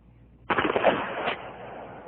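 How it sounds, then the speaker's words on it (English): A shotgun fires a single rifled slug at a 50-yard target, a sharp, loud report followed by a brief decaying echo, heard alone. "Here's what happens when you fire a rifled slug at 50 yards."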